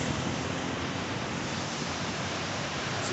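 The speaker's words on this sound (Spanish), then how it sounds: "Así está el río Cali" Steady broadband rush of the Río Cali flowing past the Siloé bank in Cali at dusk, a continuous, fairly loud wash of water with no voices over it.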